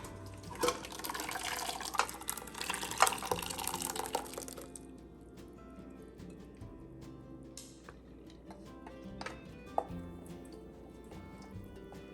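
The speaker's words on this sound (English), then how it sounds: "Take the liquid, and we're gonna strain it twice." Mazamorra liquid is poured through a kitchen strainer, running as a steady trickling stream for the first few seconds before thinning to scattered drips and small splashes, close and moderately quiet.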